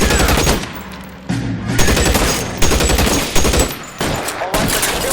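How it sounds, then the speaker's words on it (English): Rapid bursts of automatic gunfire and scattered shots from a firefight in the video game L.A. Noire, loud and dense, with short gaps between volleys. "Lay down some covering fire."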